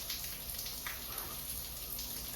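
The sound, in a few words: rain falling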